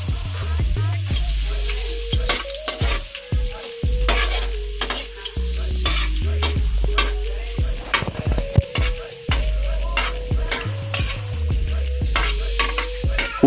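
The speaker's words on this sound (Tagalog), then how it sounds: "Ihalu-haluin lang ang bawang hanggang sa mag-brown ito." Garlic sizzles steadily in hot oil while a spoon stirs it, scraping and knocking against the cooking pan in an irregular rhythm, close and continuous.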